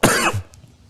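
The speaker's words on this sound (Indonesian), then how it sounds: "di saat penjelasan mungkin saya masih ada batuk-batuk" A man gives one loud, close cough that rasps off into a short throat clearing, then quiet.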